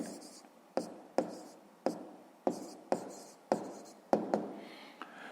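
A pen writes on paper during a Ukrainian sixth-grade maths exercise, making soft scratchy strokes broken by about ten sharp taps as the pen meets the page, close and fairly quiet, with no talking.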